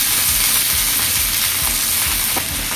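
Shredded cabbage sizzling loudly in hot oil in a pan over a full flame, a steady dense crackling hiss that fills the whole moment with no voices.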